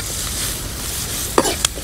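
Garlic and onions sautéing in a pan during Filipino home cooking, a steady broadband sizzle and hiss with stirring, punctuated by two sharp clanks of a utensil against the pan near the end.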